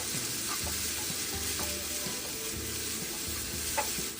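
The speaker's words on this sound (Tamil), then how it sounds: "அது வரைக்கும் நம்ம வெங்காயத்தை கூட சேர்த்து எண்ணெயில் வதக்கிக்கிறோம்." Onions and ginger-garlic paste sautéing in hot oil for poori masala, a steady sizzle with spoon stirs and scrapes recurring every second or so, close and continuous with no talk.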